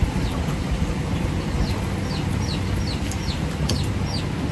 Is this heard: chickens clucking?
yes